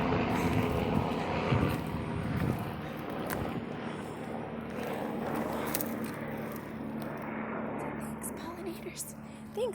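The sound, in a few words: helicopter flying overhead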